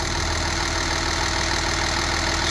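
A Kia Mohave six-cylinder engine idles steadily with the air conditioning off and the newly fitted electric fan stopped, giving an even, continuous hum heard close up in the engine bay with no talk.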